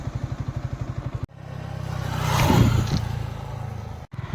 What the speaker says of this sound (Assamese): বাইকটো পাৰ্কিং কৰি দিয়া।